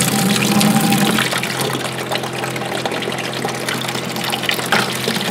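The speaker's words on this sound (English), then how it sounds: "So we'll turn on the water." Water runs and splashes steadily under the hum of a pump drawing from an onboard tank on a Jeep, a continuous close rushing with no talk.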